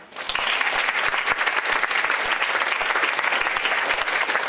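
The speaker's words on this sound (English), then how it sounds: "big clap" Applause at a live-streamed gathering honoring two longtime colleagues, a dense, steady wash of many hands clapping at once that holds evenly loud from start to finish with no voices over it.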